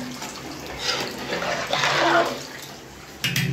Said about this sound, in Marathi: गरम पाणी आपलं साईडला गरम पाणी केलं होतं ते गरम पाणी टाकलं